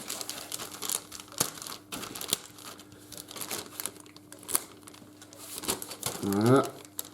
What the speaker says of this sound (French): Allez, on va commencer à ouvrir les sachets.